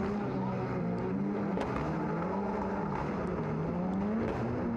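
Rallycross race cars lapping in a semi-final at Estering, a steady loud engine drone with shifting pitch from several cars running close together, unbroken by talk.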